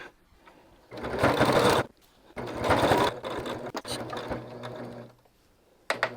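A sewing machine stitches binding onto a batik boho quilt in three close, loud bursts of rapid rhythmic clatter, each stopping abruptly with short pauses between, and a brief click at the end.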